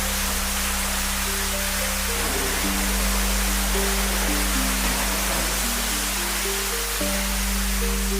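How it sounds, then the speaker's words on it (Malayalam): A waterfall inside a resort room with a private pool, in Wayanad, produces a constant, even rush of falling water. It fills the whole stretch with faint melodic tones beneath it. "അതോടൊപ്പം തന്നെ വെള്ളച്ചാട്ടം ഉണ്ട് എന്നുള്ളതാണ്."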